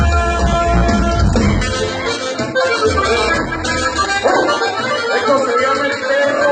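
In a Spanish-language conjunto song about a sheepdog, a dog barks and yips over the dense music and singing.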